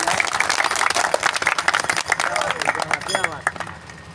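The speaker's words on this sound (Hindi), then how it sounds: "जोरदार ताली बजा के स्वागत करें" A crowd at a Hindi stage performance claps loudly and densely, while a voice carries on over the applause throughout.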